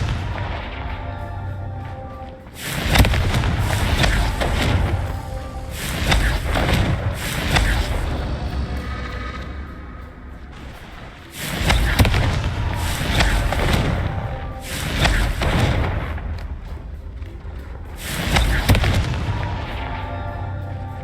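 Confringo blasting spells from the Hogwarts Legacy game go off as a series of heavy booming explosions. Several big bursts arrive in clusters with rumbling tails between them, and no one speaks.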